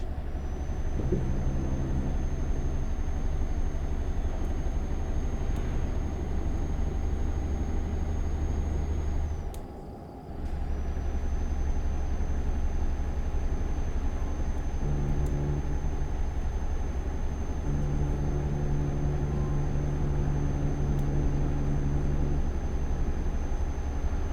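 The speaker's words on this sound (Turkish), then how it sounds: "Maşallah trafiğe bak. Kaç tane tır geçiyor valla." Heavy trucks pass in steady traffic in the Euro Truck Simulator 2 video game, a continuous low engine drone with tonal hum and a brief dip midway, without any voices.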